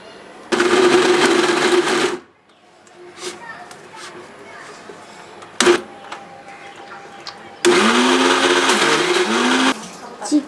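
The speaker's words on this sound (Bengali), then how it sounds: "প্রথমে আমরা মাংস আর কাঁচামরিচ একসঙ্গে ব্লেন্ড করে নিব।" An electric blender whirs loudly as it grinds chicken meat with green chilies for chicken pakora, running in two long bursts separated by quieter clatter and a sharp knock, with the motor pitch dipping under load.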